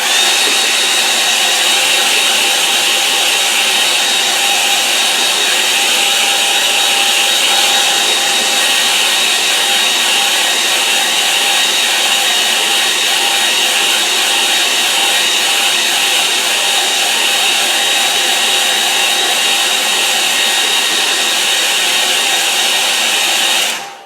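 A hair dryer blows continuously and loudly close by, drying a gouache painting, a steady unbroken whoosh that runs throughout and cuts off at the end.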